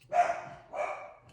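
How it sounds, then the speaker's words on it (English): A dog gives two short barks indoors, the first louder and the second a little softer, heard nearby with no talk over them. "sorry, that's my dog, guys."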